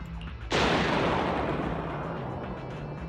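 A big explosion in the Zenless Zone Zero video game erupts suddenly after a short quiet lead-in, then a long, loud roaring rumble sustains and slowly fades.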